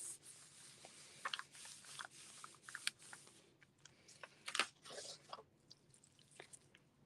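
Scrap paper rubbed over inked bubble wrap during a stamping craft, giving a quiet, steady scratchy rustle with irregular crinkly bursts and a few sharper crackles.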